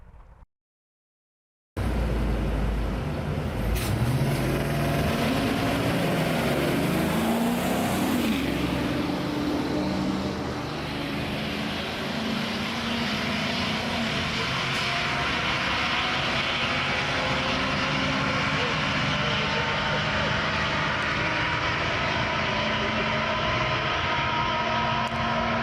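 School buses with roughly 350 horsepower race down the US 131 Motorsports Park track, a loud sustained engine roar starting abruptly after a brief silence and holding steady with a rising surge midway.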